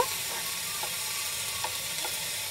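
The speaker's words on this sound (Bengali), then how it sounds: "আমাদের কিন্তু কড়াইতে সবজিগুলো মানে সতে করা চলছে" Vegetables sautéing in a wok for a paneer dish on a rooftop garden, giving a soft, steady sizzle and hiss with a few faint stirring taps. No voices.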